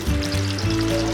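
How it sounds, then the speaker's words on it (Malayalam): Jackfruit pieces drop into hot coconut oil and sizzle steadily for about a second, a close, continuous frying crackle with no talking. "നല്ലോണം വെളിച്ചെണ്ണ നല്ല തിളച്ചിട്ട് ഇടാം"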